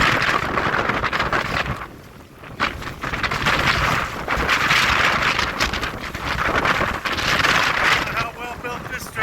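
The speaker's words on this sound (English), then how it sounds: "Wind is blowing about 60," Strong wind of roughly 60-70 mph roars steadily and loudly across the microphone, buffeting in gusts with brief lulls, while a voice talks underneath.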